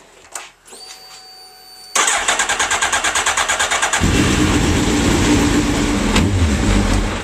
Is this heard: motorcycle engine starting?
yes